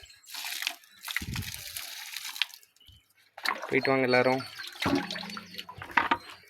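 Water splashes and gurgles as fish are poured from a container into a pond, coming in short bursts with a pause between them, while a person talks before and during the pouring.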